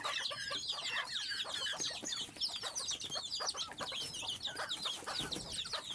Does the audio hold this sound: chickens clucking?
yes